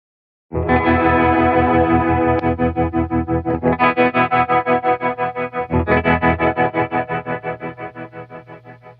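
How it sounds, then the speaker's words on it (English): Electric guitar chords played through a Fender Tre-Verb reverb and tremolo pedal, loud and sustained with a strong rhythmic chopping pulse and a washy reverb tail, restruck a few times, no voices. "So now the reverb effect becomes much more pronounced. It's obvious that it's chopping."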